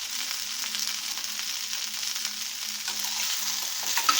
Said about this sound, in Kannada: ಇದು ಸ್ವಲ್ಪ ಫ್ರೈ ಮಾಡ್ಕೊಳ್ಳೋಣ.